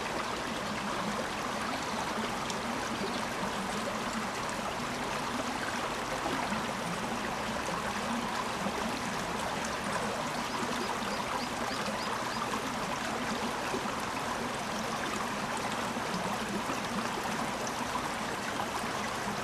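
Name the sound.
water rushing down a power-plant chute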